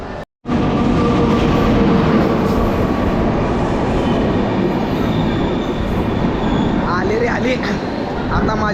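A train rumbles loudly and steadily close by, with rattling carriages and a squealing screech of wheels toward the end; voices murmur underneath.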